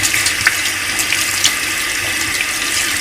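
Tap water runs steadily into a sink while a makeup brush is rinsed clean of soap, a continuous close splashing hiss with small irregular spatters and no talk.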